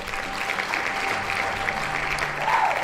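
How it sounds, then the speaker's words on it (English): Dense, steady crowd applause fills the whole stretch at an even level, a continuous wash of many hands clapping with no pause and no voices on top. "To outrageous applause"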